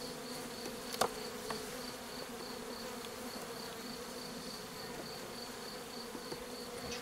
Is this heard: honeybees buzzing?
yes